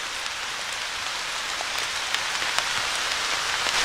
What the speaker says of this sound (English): Now it starts to rain again.